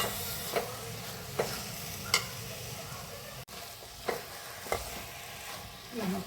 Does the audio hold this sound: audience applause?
no